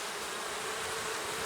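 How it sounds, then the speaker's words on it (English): Dense buzzing of many honey bees crowded inside a hive feeder, a close, loud, unbroken drone. "Lots of bees up in the feeder"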